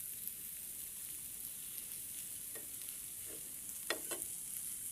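Pieces of fish fry in a pan with a steady, soft sizzle and hiss. A few sharper clinks and scrapes from stirring or turning the pieces stand out near the end.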